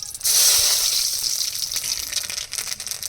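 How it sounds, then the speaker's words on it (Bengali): Dried red chillies and nigella seeds hit hot oil with a sudden loud, close sizzling burst that settles into a steady crackle, with no talking. "তেলের মধ্যে শুকনো লঙ্কা আর কালো জিরা ফোড়ন দিয়ে দেবো"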